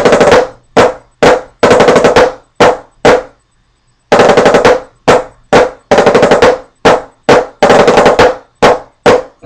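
Snare drum played in a flam rudiment pattern, sharp loud bursts of fast strokes grouped in repeating clusters, a short pause midway, then the figure resumes, close and unaccompanied.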